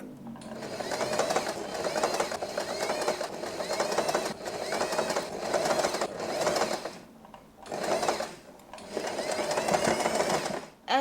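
Sewing machine running in steady bursts as it stitches a ruffled, pleated pattern along fabric for a headband, a close mechanical whirring chatter that pauses briefly between runs.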